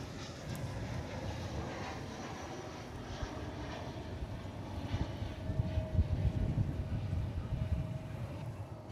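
An American Airlines jet at Dallas/Fort Worth Airport rumbles steadily at a moderate distance, the low engine drone swelling slightly toward the end.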